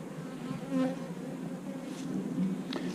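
Honeybees and drones buzz at the hive entrance early in the season, a close, continuous droning hum with individual insects swelling louder as they pass nearby.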